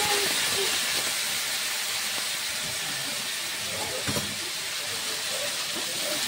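Pumpkin pieces frying in hot oil seasoned with salt and turmeric, a steady broadband sizzle and hiss held evenly throughout, close and loud with no talking.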